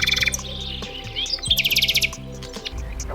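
Nightingale song: rapid bright chirps and trills in quick bursts, clear and fairly close, with a low droning hum underneath and no voices.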